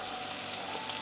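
Tomato cooking with salt in a pan for Indian veg masala pulao, giving a steady soft sizzle and frying hiss that runs evenly through the short moment without talk.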